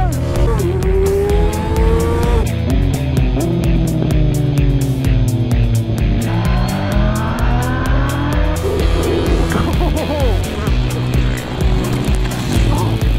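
A 2020 BMW S1000XR motorcycle runs hard at full power on the road, its loud engine rising and falling through gear changes, with steady rushing wind noise throughout.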